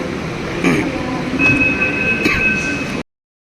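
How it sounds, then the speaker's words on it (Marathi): A Pune metro train rolls into a station with a rumbling roar and a thin, high wheel squeal, then the sound cuts off abruptly. "चला तर गायज आमची मेट्रो आलेली आहे"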